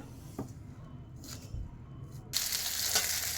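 Chopped onions fry in a pan for a mutton curry, starting as a quiet, scattered crackle and then swelling into a steady, bright sizzle over the last second.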